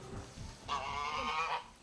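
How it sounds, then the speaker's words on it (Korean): Geese at a zoo let out a loud, harsh burst of honking, a sustained nasal cry following softer calls, close by and without talk. "극도로 경계심을 보이며 요란한 울음소리를 내는 동물원의 거위들"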